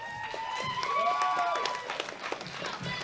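Applause for junior bench press medalists at the World Classic Powerlifting Championships, a modest burst of clapping from the arena crowd under a whistling tone and background noise, fading after a few seconds.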